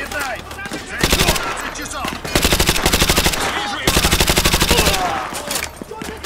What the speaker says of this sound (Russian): Да из чего они стреляют? Откуда они стреляют?